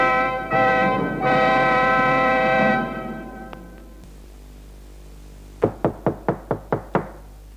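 After a sustained tonal sound that fades away, a door in a comedy sketch takes seven quick, sharp knocks in a steady rhythm, crisp and close, with no talking.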